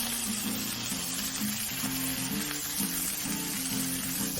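Sausage patties frying on a Blackstone griddle give a steady, close sizzle that runs unbroken throughout, with a low rhythmic hum beneath it and no talking.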